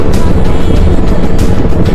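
A Suzuki Hayabusa GSX1300R motorcycle cruising in sixth gear at low revs gives a steady, loud, low engine rumble mixed with constant wind rush throughout.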